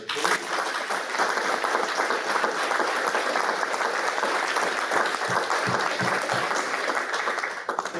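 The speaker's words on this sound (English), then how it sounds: "so if we could please give them a final round of applause." Audience at a panel discussion on leadership and digital disruption applauding steadily at full volume for about eight seconds, a dense wash of many clapping hands with no talk.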